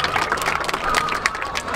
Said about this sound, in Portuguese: uma salva de palmas pro Gessé